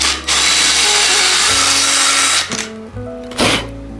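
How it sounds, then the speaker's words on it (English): A power drill whines loudly at high speed, grinding through a bicycle rim to drill a valve hole with a worn bit, then stops and restarts in a short burst, close up. "time for a new drill bit"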